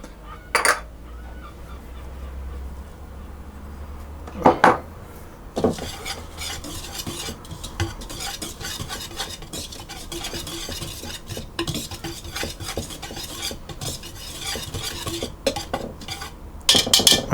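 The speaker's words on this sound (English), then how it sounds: "I'm going to put all the dry ingredients into the flour and I'm going to mix those around" A utensil stirring dry cracker ingredients, Parmesan and mixed herbs, into flour in a bowl, giving soft scraping and clinking with a few sharper knocks against the bowl.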